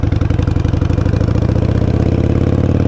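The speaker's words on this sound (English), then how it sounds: "slowly letting out on clutch while slowly coming back on throttle" Motorcycle engine running as the clutch is let out and throttle eased on, a loud, close, steady throbbing drone with a fast even pulse and no voices.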